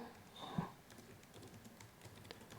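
Soft, quiet taps on a computer keyboard as three words are typed into a spreadsheet cell, with a few scattered keystrokes and one firmer press near the start.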